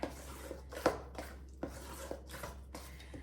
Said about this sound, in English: I'm just gonna stir it a little bit more.